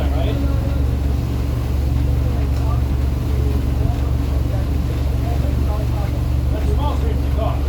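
Yacht engine exhaust gives a loud, steady low rumble and drone that runs without a break under constant broadband noise, close and unvarying.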